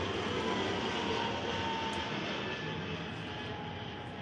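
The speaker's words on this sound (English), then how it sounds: "I'll wait for the plane. That's a loud one." A loud airplane passes overhead, its broad engine roar steady and close for the whole stretch, slowly easing at the end, with no talking.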